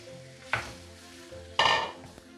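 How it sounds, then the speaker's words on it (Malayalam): Chicken pieces go into a pan of caramelized onions for a Kerala-style sesame chicken curry, giving two distinct bursts of sizzling and stirring against a low steady kitchen background, with no talk. "ഇനി നമുക്ക് ചിക്കൻ ഇട്ട് കൊടുക്കാം അതിനകത്തോട്ട്."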